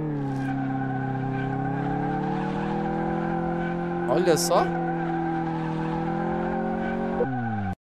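A car revs hard and spins its tires in a burnout in Car Mechanic Simulator 2018, a sustained engine drone with screeching tire squeal rising briefly midway, then the engine cuts off abruptly; someone speaks briefly.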